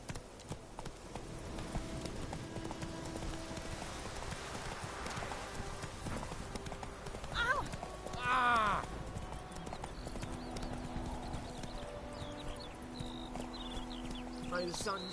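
Hooves of the horse Roach in The Witcher 3 clip-clop in a quick, steady galloping rhythm, fairly faint under game sounds, with brief voice lines and a short whinny-like cry partway through.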